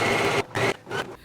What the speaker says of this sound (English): I'm gonna stitch down on both sides of the jacket now.